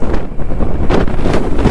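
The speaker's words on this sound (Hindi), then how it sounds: "बहुत तेज़ हवा चल रही है यार" Strong mountain wind buffets the microphone in gusts, a loud continuous roar rising and falling in the Uttarakhand hills on the way to Adi Kailash, with no one speaking.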